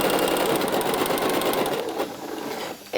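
A sewing machine runs a gathering stitch along a blouse fabric piece in a fast, steady mechanical whir with rapid needle clatter, close up, slowing briefly near the end.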